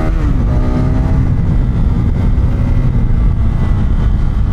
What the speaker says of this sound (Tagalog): Testing tayo sa power ng Adventure R. 44 horsepower bike.